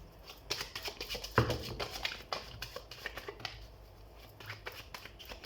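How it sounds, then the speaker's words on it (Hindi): Tarot cards shuffled by hand, a rapid riffling and flicking with irregular soft slaps and rustles, close and fairly quiet, with no speech. "तो सबसे पहले हम कार्ड शफल कर लेते हैं।"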